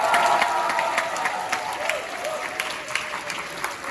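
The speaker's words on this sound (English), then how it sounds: "please clap and cheer now" An audience at a fringe theatre show claps and cheers in a steady, full wash of applause, with crisp individual claps standing out and faint shouts mixed in throughout.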